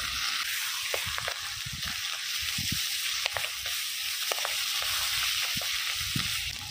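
Bean paste and garlic stir-fry in a hot pan at a steady, close sizzle, with occasional scrapes and clicks of the spatula against the metal throughout.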